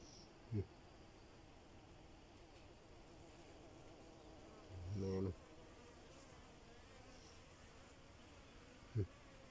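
Bees buzzing around a hive box in a field give a steady, faint, droning hum throughout. A few brief low knocks and thumps sound nearby.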